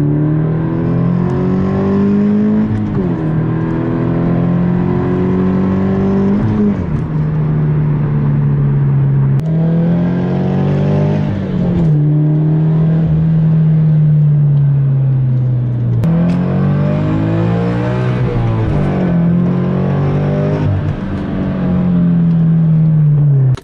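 A modified Subaru BRZ engine revs repeatedly during stationary pulls, rising and falling in long sweeping cycles, loud and continuous with no talk.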